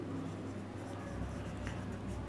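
Chalk or marker writing on a board during a class 10 maths lesson: soft scratchy strokes, faint and close, over a quiet room hum.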